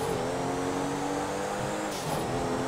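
Car engine from Grand Theft Auto V drives on steadily with a constant droning hum and slight revving, close and continuous with no voices.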